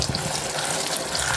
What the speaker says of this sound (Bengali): লেটুস পাতা, টমেটো, গাছের মরিচ এখন ধোয়া হইব